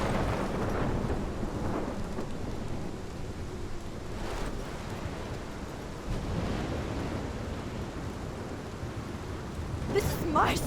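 Thunderstorm in the video game Life is Strange, a steady roar of heavy rain and rumbling thunder that swells near the end, loud and continuous with no talking.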